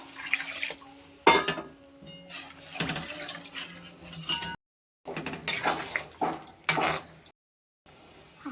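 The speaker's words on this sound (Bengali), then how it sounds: "এবার আমি ভীষণ গরম জল দিয়ে দেবো" Very hot water is poured into a pan of fried spices in a home kitchen, with splashing bursts, bubbling and clattering of pots and utensils, broken by short silences.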